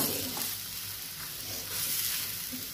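Mushroom and prawn curry is stirred in a pan, a soft sizzle mixed with scraping and stirring strokes, fairly quiet and close, with no voices.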